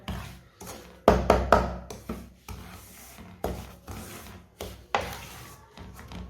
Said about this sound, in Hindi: इसी तरह थोड़ा सा चम्मच चला लेंगे।